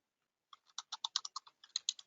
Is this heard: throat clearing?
no